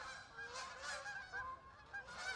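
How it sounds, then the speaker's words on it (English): Geese honk repeatedly in a close, loud, overlapping chorus of nasal calls with no speech. "I don't know what's up with the geese today,"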